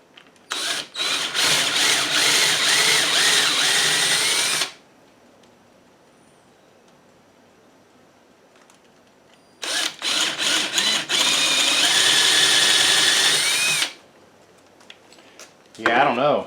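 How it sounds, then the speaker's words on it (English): A power drill drives screws into a glued wooden porch post in two long bursts of about four seconds each, loud and close. A third burst starts at the very end, with near silence between the runs. "Let's just go ahead and put some screws in it."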